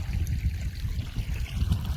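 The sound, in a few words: irrigation water flowing in a millet field channel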